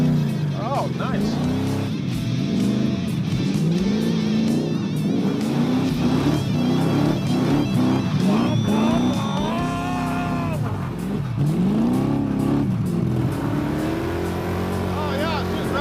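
An old Dodge Coronet engine runs and revs inside the car as it is driven, a rough rising and falling drone that continues throughout, with people talking over it.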